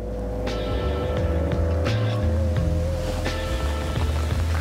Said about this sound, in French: Dernière attraction sur l'île, le jet surf, une planche avec un moteur intégré.